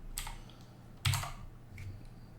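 A few quiet keystrokes on a computer keyboard while entering a git command, sparse clicks scattered over a couple of seconds with one firmer tap in the middle.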